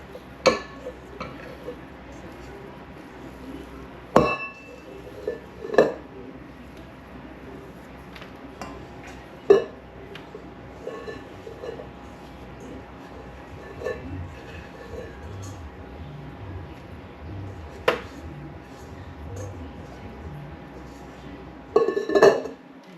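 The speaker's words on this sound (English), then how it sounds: "scoop out the cookie dough into 9 cookie balls. I'll just get it out of the pan here" Metal spoon scraping and clinking against a pan while scooping banana cream pie cookie dough into balls, with scattered sharp clinks and soft scraping spread over a quiet kitchen.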